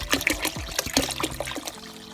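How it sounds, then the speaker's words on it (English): Distilled water pours into a cooking pot while an elderberry tonic is made, a close, uneven trickle and splash that keeps going throughout. "what I'm going to do is I'm just going to add the rest of the water. I'm using distilled water."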